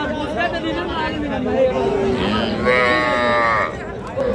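A heifer calf lows at a busy cattle market, with one drawn-out moo standing out over steady crowd chatter and nearby voices.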